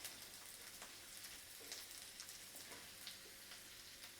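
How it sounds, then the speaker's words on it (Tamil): Chopped okra sautés in a pan for a Tamil tamarind curry, a faint, soft hiss of frying with a few light crackles, steady and without talk. "இது நல்லா வதங்குற வரையும் அப்பப்போ கொஞ்சம் வதக்கி விட்டுக்கிட்டே இருக்கணும்."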